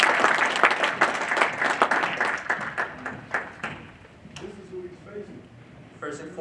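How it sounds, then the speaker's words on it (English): Applause at a boxing press conference greets a debuting boxer, dense clapping from a crowd that thins out over several seconds as a voice begins to speak. "I think he needs a nice round of applause because his road ahead is a tough one."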